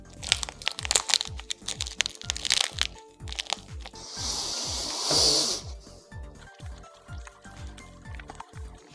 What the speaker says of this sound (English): I was chewing that for a good minute and I felt like I was making no progress.